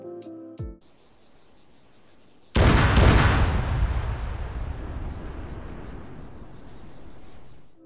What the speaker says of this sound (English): explosions, for example, will sound almost identical in simulation videos